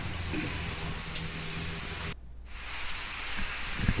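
Rain falling steadily during Hurricane Matthew, a dense constant hiss of drops on surfaces that cuts out briefly midway and then resumes, with faint low rumble beneath.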